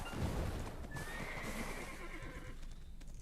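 A horse in a video game whinnies in a long, clear neigh over hoofbeat clip-clops and game background sound, close and moderately loud, with no talking.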